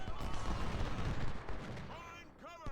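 Civil War cannon and rifle fire in the strategy game Ultimate General at the Battle of Chickamauga rolls as a dense, continuous rumble of distant volleys and booms, fading slightly toward the end.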